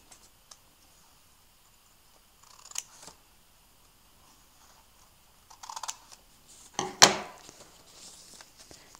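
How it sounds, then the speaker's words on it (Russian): Scissors snip through folded paper while a greeting card is being cut, giving a few quiet, close, crisp cuts and clicks separated by silence. "И мы аккуратно ножницами с этой стороны, которая раскрывается, прорезаем сантиметр на"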